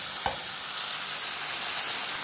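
Rice tipped into a pan with curry and bay leaf, starting with a brief soft drop and then a steady loud frying sizzle that fills the rest of the clip, no voices.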